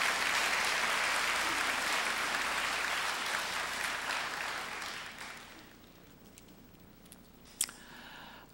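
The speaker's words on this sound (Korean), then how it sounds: "우리 큰 박수로 환영하도록 하겠습니다" A large crowd at a Korean church youth conference gives loud, sustained applause to welcome a pastor as guest speaker, fading out after about five seconds to quiet room noise with a few faint taps.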